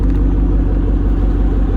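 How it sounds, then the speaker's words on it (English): A 2011 Shelby GT500 convertible with over 750 horsepower gives off a deep, loud, continuous engine rumble at close range, steady and throaty throughout. "2011 Shelby GT500."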